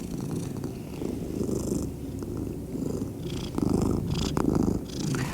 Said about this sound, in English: He's purring right now.